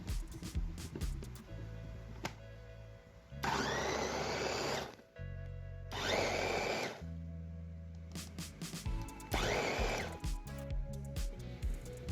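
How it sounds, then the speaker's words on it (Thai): An electric blender blending Thai seafood dipping sauce with lime juice runs in three loud bursts of whirring, separated by pauses with quieter clattering and background hum. "เราใช้เครื่องปั่นมันจะละเอียดง่ายนะคะ"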